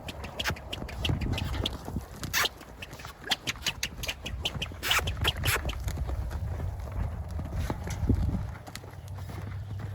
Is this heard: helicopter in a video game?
no